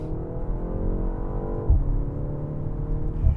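BMW M135 xDrive engine in Sport mode pulling hard from inside the cabin, a steady droning growl rising in pitch, then a brief dip and two soft thumps at the gear changes.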